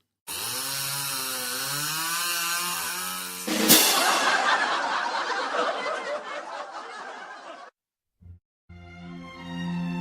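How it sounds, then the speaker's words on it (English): A chainsaw engine revs with a whining drone, bursts into a loud rough roar for several seconds, cuts out, then sputters back up. "the salesman takes the chainsaw and starts it up"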